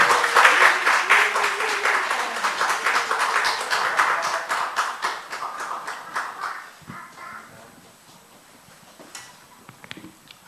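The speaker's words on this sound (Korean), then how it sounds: "여러분 박수로 환영해 주십시오" A church congregation at an evening prayer gathering claps to welcome a speaker, with steady, fairly loud applause that gradually thins out. It dies away after about seven seconds, leaving a few scattered claps and small room sounds.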